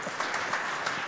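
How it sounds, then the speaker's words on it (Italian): Audience applause at a literary prize lecture event, a short steady burst of clapping from a seated crowd, moderately distant and fairly soft, with no talk over it. "Facciamogli un applauso"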